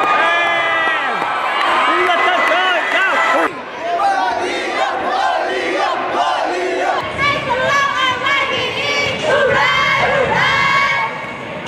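A high school crowd cheers and shouts loudly on senior night after a home game lost to Hoover High School, with many voices whooping and yelling together, sustained and close throughout.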